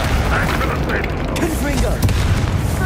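A Bombarda explosion spell in Hogwarts Legacy gives a dense, loud, rumbling blast of noise that fills the moment, with faint voice-like tones threaded through the game mix.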